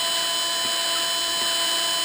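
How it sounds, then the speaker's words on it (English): A power drill spins at low speed, giving a steady, even motor whine with a broad hiss that holds unchanged from start to finish, close by and alone. "You only need a low speed on your drill."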